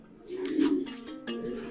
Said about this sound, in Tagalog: Yung mga ibon na yan. Tulad dito.